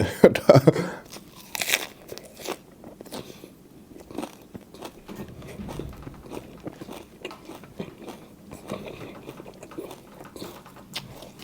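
Close, crunchy chewing and biting while eating bamboo shoot curry, irregular soft crunches and smacks repeating throughout, with a brief burst of talk at the start.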